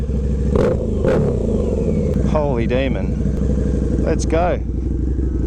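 A 2015 Harley-Davidson Night Rod Special with a TAB exhaust idles with a deep, loud, steady throb, blipped up in a couple of revs while someone talks over it.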